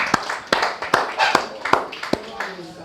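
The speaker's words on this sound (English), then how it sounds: "So let's give him a round of applause." A small audience at a school-care talk claps in a loose, uneven patter, with a few distinct claps standing out close by. Faint voices murmur underneath.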